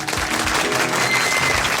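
Applause from an audience at a customer gathering as the chairman comes to the podium, steady and fairly loud for under two seconds.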